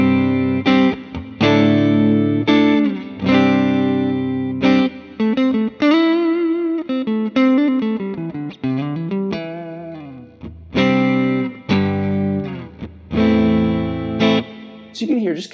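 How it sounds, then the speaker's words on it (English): Clean tone from the neck pickup of a Fender Stratocaster run through a Quad Cortex modeler, warm and slightly dark; strummed chords and melodic single-note lines with sliding bends, loud and close, with brief pauses between phrases. "So you can hear just kind of a nice, warm, kind of bordering on dark kind of clean tone."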